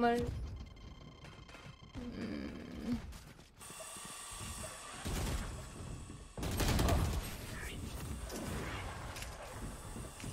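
Bursts of gunfire in the shooter game Valorant, rapid crackling shots that come in clusters with short gaps, mixed with mechanical clicks and game noise while a player talks over the action.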